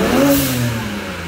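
A twin-turbo BMW 335i engine revs up in a workshop, a steady mid-pitched drone with a rising and falling tone held loud and close throughout, no voices.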